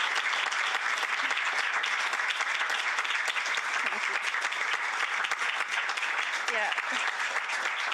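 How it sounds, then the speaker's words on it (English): A conference audience in Brussels claps in thick, continuous applause that stays loud and even for several seconds, and a voice says a brief word during it. "I think we should have a round of applause actually for Ana Laura and for Francesco"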